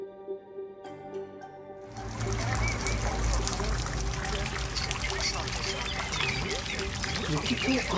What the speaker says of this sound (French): nous sommes attirés par ces jolies cascades toutes moussues